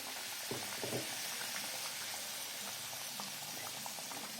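Vada frying in hot oil in a kadhai, a steady soft bubbling with a few small pops and splashes near the start, close and fairly quiet with no voices.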